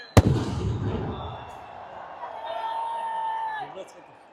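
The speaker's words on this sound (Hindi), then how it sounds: "इन पटाखों की एक एक चिंगारी हमें इमरान खान की याद दिला रही है" Fireworks and firecrackers at the inauguration of the Imran Khan Cricket Stadium in Khyber Pakhtunkhwa: one sharp, loud bang opens, followed by fading crackle and a whistling trail over distant crowd murmur.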